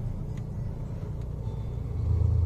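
Inside a moving car, a steady low engine rumble and road drone fill the cabin, swelling slightly louder toward the end with no talking.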